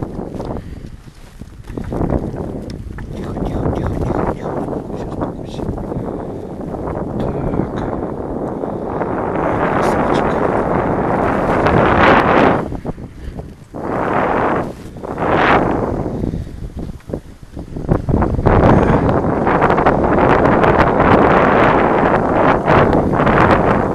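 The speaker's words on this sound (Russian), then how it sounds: "Да, ветер" Wind gusts across open water during a solo fishing trip for crucian carp, buffeting the microphone with loud, uneven roaring surges and brief lulls.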